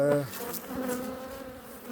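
Black honeybees buzz around a hive at an apiary in late October, a soft continuous drone with individual bees passing close by, fairly faint and steady throughout.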